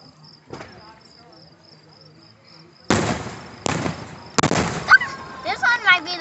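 Fireworks bursting outdoors at night, three sharp loud booms spaced about a second apart followed by crackling pops, with crickets chirping faintly in the background.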